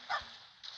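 Dogs barking in a video game, a couple of short, fairly faint synthetic barks standing apart from a quiet background hum.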